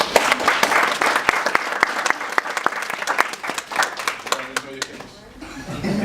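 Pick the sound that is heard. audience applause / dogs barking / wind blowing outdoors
audience applause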